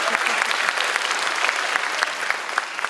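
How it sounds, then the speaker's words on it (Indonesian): Dense, steady clapping from a large audience, loud and close, continuing throughout. "tepuk tangan buat kalian semua"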